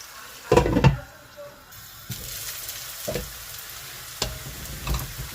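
Salt and green chilies frying in a pan for a masoor dal with okra, a steady close sizzle broken by several louder clattering bursts of stirring, with no talking.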